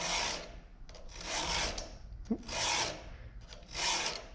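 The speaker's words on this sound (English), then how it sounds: "Sharpening it with a file this way" Hand file sharpening a chainsaw chain, three slow rasping strokes with short pauses between them, close and moderately loud, no voices.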